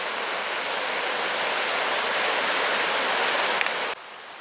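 Little Woodhull Creek rushes beneath a 96-foot railroad bridge in the Adirondacks, a loud, dense, unbroken hiss of flowing water that cuts off abruptly near the end.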